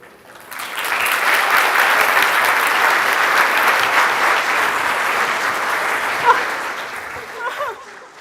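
Sustained audience applause at a youth leadership symposium: a dense, even wash of clapping that swells quickly, holds steady, and tapers slightly at the end, with a few faint voices mixed in.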